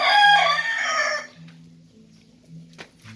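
Chickens near a Twin Airbow paddy rice cleaning air blower: a loud rooster crow opens, then quieter clucks follow over a steady low machine hum.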